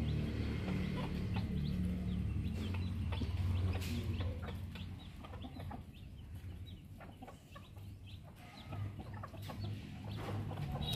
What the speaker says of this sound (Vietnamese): Nó nở ra được mấy con gà con rồi cả nhà